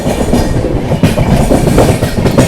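Passenger train on the New Delhi–Patna special running at speed past Prayagraj Junction, a loud, steady rumble of wheels on rails with rhythmic clickety-clack throughout, heard close from on board.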